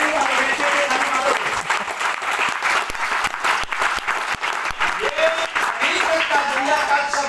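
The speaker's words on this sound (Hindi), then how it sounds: "जोरदार ताली" An audience breaks into loud applause in a hall, dense clapping that surges and rises again, with a speaker's voice mixed in and partly heard over the clapping.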